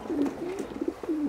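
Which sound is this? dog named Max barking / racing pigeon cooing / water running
racing pigeon cooing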